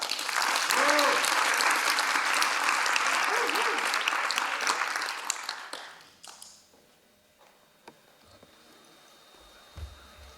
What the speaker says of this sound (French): On applaudit Père fort Laïla!